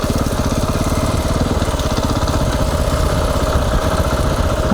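A KTM 690 Enduro single-cylinder motorcycle idles and putters loudly up close with a steady, even thump while the bike is slowly turned around on a mountain road.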